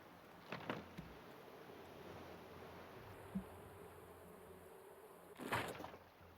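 Bees droning around bee houses in the Raft survival game, a steady faint buzz running throughout, with a few soft clicks and a brief louder burst near the end.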